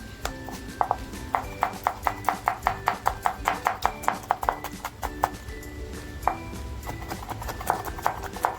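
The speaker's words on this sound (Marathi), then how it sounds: "कांदा बघा आपला असा बारीक कापून झालेला आहे तसाच आपल्याला सुद्धा अगदी बारीक कापून घ्यायचं आहे" Onion being finely chopped with a knife on a board, a quick run of sharp, evenly spaced taps, close and fairly loud, pausing midway before a second, slower burst of cuts.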